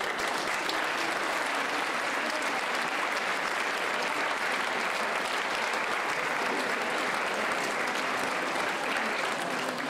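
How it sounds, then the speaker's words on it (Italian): A crowd at an outdoor music festival gives sustained, even applause to welcome a trombone ensemble. The dense, loud clapping stays constant throughout, with no voices on top. "Bel applauso!"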